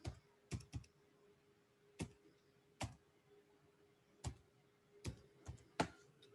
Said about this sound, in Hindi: so I am typing here the Aadhaar number